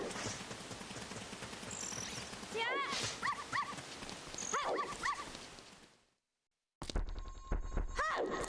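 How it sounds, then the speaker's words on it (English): Dogs in The Legend of Zelda: Ocarina of Time barking and yipping in short bursts amid busy game music and effects, a brief dropout to silence partway through, then yips again. "So I actually need to avoid these dogs"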